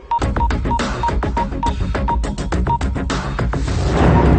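Short electronic keypad beeps from a mobile phone repeat in a quick, even series of about eight presses over loud, busy background sound.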